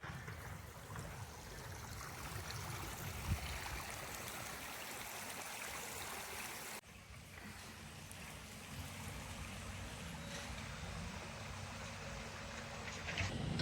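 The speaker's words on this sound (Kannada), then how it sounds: "ಚಿಕ್ಕ ಚಿಕ್ಕ ತೊರೆ ಎಲ್ಲ ಹರಿತಿದೆ" Small streams trickle and flow near a lakeside resort around Sakleshpur, a steady broadband wash of running water throughout with a brief dip midway and no voices.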